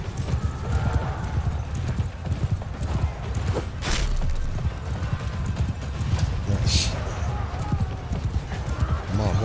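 Hooves of a horse galloping in a video game battle at Helm's Deep, loud and continuous clip-clop with an occasional whinny amid battle noise.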